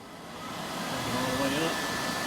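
Blower fan of the air conditioning in an AJS 818 car, a steady airy whoosh that swells in level as the fan speed is clicked up, running smoothly and fairly quietly.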